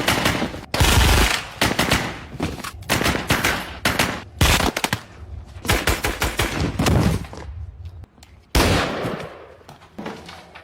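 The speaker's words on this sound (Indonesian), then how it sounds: "leher Miller harus terserempet tembakan yang berasal dari Ryan" Loud bursts of automatic gunfire from a war film battle scene, several long rattling volleys separated by brief pauses, close and dominant.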